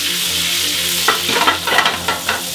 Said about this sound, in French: Voilà, tourne et retourne. Et on veut une belle coloration. Les pommes de terre sont pas très cuites, donc elles vont continuer à cuire.